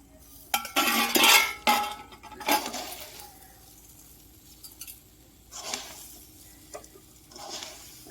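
Raw mango pieces are stirred with sugar in a pan over a low gas flame, making scraping clinks and clatters of a utensil against metal in a few separate bursts, with quieter gaps between them.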